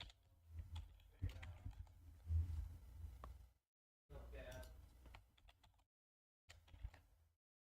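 Computer keyboard typing in clustered bursts of clicks with brief pauses, close and fairly quiet, with some low thumps and a speaking voice mixed in.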